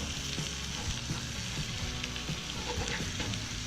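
Fresh catfish fillets fry in a pan of hot oil with a dense, steady sizzle and crackle, close and continuous, with faint pops and stirring clatter throughout.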